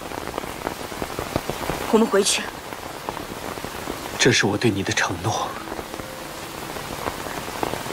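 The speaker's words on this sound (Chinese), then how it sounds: "现在这么大雨，你不能淋雨。" Heavy rain pours steadily on a surface in an outdoor drama scene, a constant dense hiss that carries under two bursts of close dialogue.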